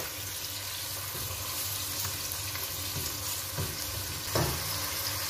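Onions frying in oil toward light golden brown, a dense, even sizzle close by with faint stirring and one brief scrape near the end, no speech.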